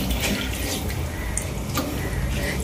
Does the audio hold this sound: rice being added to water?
yes